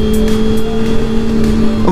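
Kawasaki ZX6R motorcycle engine with an open exhaust, idling as a steady loud hum with a high harmonic whine, then revving up sharply near the end.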